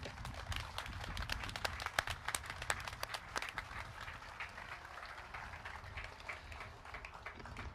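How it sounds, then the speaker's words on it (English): A crowd at a news conference marking completion of the I-43 North-South highway project in Milwaukee and Ozaukee counties breaks into sustained applause, a dense steady patter of clapping at moderate distance with no talk over it. "let's give give yourself a round of applause"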